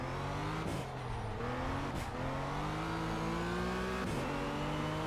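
A race car engine droning steadily on track in Project Cars, revving up and down through gear shifts with a few short dips, moderately loud and alone.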